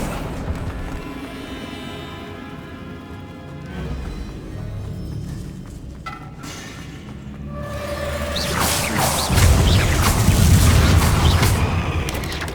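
An Accio summoning spell cast in the Hogwarts Legacy video game: a long, rising magical whoosh that swells into booming, rushing energy toward the end, loud and close, with no voices over it.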